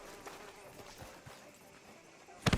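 Horse hooves clip-clop at a walking pace in Red Dead Redemption II, with soft, scattered hoofbeats and a louder cluster of steps at the end, under faint ambient noise.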